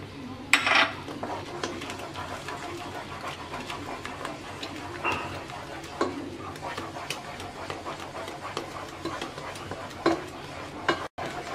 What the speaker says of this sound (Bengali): এবার অনবরত নেড়ে চেড়ে আরও একটু ঘন করে নেব